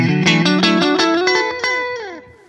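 A distorted electric guitar plays a run of notes through a delay pedal's tape-delay mode set to worn tapes, each note repeating and smearing into the next before the tail fades out.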